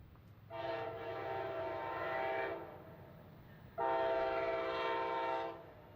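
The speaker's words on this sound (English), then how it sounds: "a rather unexpected train rounds the corners through Fredericksburg" Auto train number 52 passes through Fredericksburg, Virginia, sounding two long, loud horn blasts, the second stronger, over a low rolling rumble.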